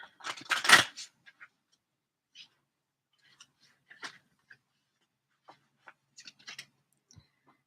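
Soft papery riffling of tarot cards being shuffled opens the clip, followed by scattered light taps and flicks of cards, with long quiet gaps between.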